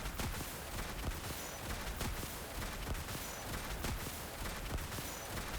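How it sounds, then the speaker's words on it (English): Rapid gunfire in the video game Genshin Impact during Clorinde's quest, a dense fusillade of sharp bursts repeating steadily without a break, loud and continuous with no talk. "I'm literally shooting gunfire in public area."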